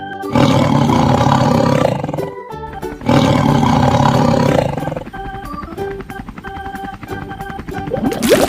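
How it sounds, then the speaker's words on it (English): A tiger gives two long, loud, full-throated roars in quick succession, followed by lower rumbling growls with faint tonal sounds behind them. "tiger"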